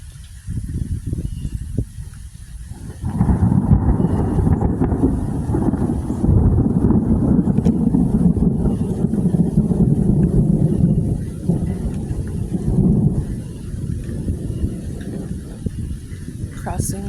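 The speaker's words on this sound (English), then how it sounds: "Beautiful storm." Deep, rolling thunder from a Texas thunderstorm rumbles loudly and continuously for several seconds amid wind buffeting the microphone, then eases back to a steadier low roar.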